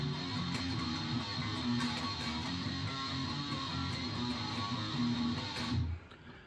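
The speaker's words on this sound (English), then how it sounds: "it gives a distorted guitar a little bit of a squeal" Distorted electric guitar riff from a song's intro, dense and sustained with a bright upper squeal over chugging low notes, loud and continuous before cutting off near the end.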